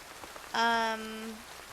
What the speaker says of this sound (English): Light rain. Got a lot of light rain.